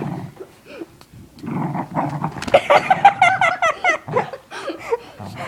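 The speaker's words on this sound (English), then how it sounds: "This is Trixie, Alex's dog" A dog growls and whimpers up close in a run of rising, whiny vocalizations mixed with low rumbling growls.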